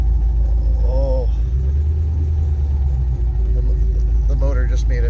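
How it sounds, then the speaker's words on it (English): An old car's motor, just pulled out of a barn after more than ten years, rumbling loud and steady throughout with a low, rough drone, while people talk over it. "the motor just made a new sound"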